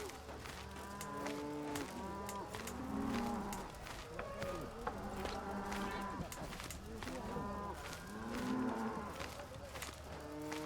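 Cows in the video game Elder Kings 2 moo repeatedly and overlap one another in a steady, looping farm-animal chorus, faint overall, with talking at times.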